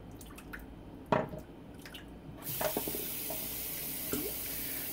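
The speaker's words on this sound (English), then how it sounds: "Wet our brush." Water runs and drips as a shaving brush is wetted before lathering a shaving soap, starting with scattered drips and a splash, then a steady close tap stream with a few more splashes.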